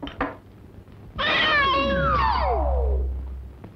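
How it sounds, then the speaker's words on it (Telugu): A cat lets out a long, loud, drawn-out meow that rises and falls in pitch, preceded by a couple of short thumps, with a low rumble beneath it. "ఒసే పిల్లి, మ్యావు మ్యావు అంటూ నువ్వు ఇప్పుడే రావాలా తల్లి?"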